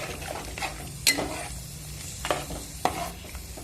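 Eggplant curry in a pot stirred with a utensil after tamarind water is added, with a low simmering sizzle and a few sharp close scrapes and clinks against the pot, no voices.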